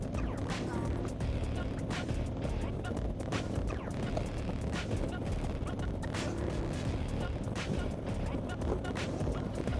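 A 2024 Harley-Davidson Road Glide Limited cruises in sixth gear, its steady engine rumble blended with heavy, continuous wind rush, loud and unbroken throughout.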